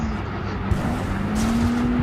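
Lamborghini engine in a racing video game drones as a steady, loud hum that rises slightly in pitch as the car holds speed, with no voices.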